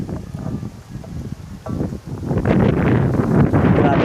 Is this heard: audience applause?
no